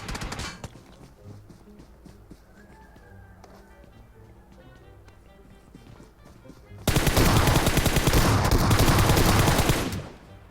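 Gunfire in PUBG Mobile starts with scattered distant shots, then a loud, sustained burst of rapid automatic fire runs for about three seconds before cutting off.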